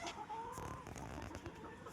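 Free-range country hens on a poultry farm cluck and murmur together at a moderate distance, a continuous chatter of short calls from a sizeable flock.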